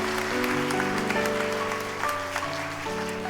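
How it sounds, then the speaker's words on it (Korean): A church congregation applauds at a Sunday retirement worship service, a soft spread of clapping over sustained organ-like tones that shift pitch every second or so, with no speech. "다 같이 격려 힘찬 박수 한번 하시겠습니다."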